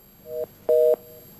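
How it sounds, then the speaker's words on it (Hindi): A telephone line makes two short beeps of a disconnect tone after a dropped call, the second longer and louder, set against a faint hiss. "उनका फोन कट गया है"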